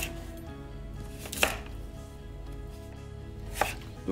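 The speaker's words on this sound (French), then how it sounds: "Donc on fait d'abord des bâtonnets, on coupe ensuite dans l'autre sens, et ça fait des petits cubes." Knife dicing a washed, unpeeled organic carrot and shallot into small brunoise cubes on a board, with only two distinct knife taps standing out over steady kitchen background noise.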